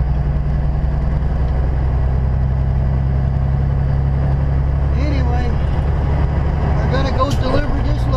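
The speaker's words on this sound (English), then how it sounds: "You want to hear what a diesel engine sounds like when it's cold?" A deep, steady cold diesel truck engine idle rumbles close by throughout, rough and low, with a person talking over it near the end.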